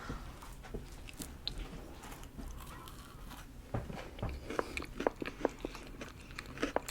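Close crunchy bites and chewing of a Subway cookie, irregular sharp crunches growing louder and more frequent toward the end.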